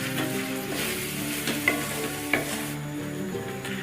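Tomato and green chili paste frying for mutton biryani crackles in the pot while being mixed, with a couple of sharp utensil clinks over a steady sizzle and a tonal background.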